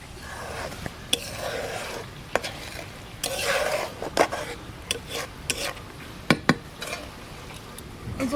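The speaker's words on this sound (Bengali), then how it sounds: "ঝোলটা পালা করে ফুটছে, এবার মাছটা দিয়ে দেবো।" Tilapia fish curry gravy bubbles and sizzles in a pan, heard up close amid intermittent stirring scrapes and sharp clinks of a utensil against the pot, with no talking.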